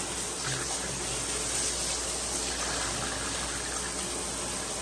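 Water drains steadily from a bathroom tub just cleared of a hair clog, a continuous rushing gurgle that stays loud and unbroken throughout.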